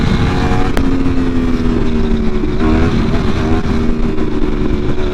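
A motorbike engine holds a high, steady revving drone during a wheelie, loud and close, with slight pitch dips as the throttle shifts, and no voices over it.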